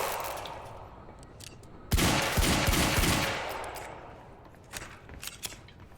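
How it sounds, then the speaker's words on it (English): Heavy pistol fire in the video game Quantum Break: a loud burst of several rapid, punchy shots erupts and rings out for about a second, then fades into quieter ambience with a few faint pops near the end. "That is a heavy pistol."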